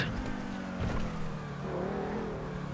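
In GTA Online, a car engine hums and shifts pitch as the vehicle rolls into a parking lot, steady and moderately close with faint tire noise and no talking.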